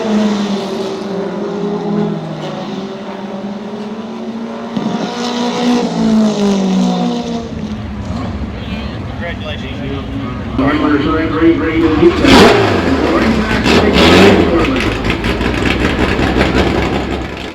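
Pure stock race cars and a pace car circle the track at Desoto Speedway before a 25-lap feature, engines droning and rising loudly under steady announcer talk, with revving surges growing stronger toward the end.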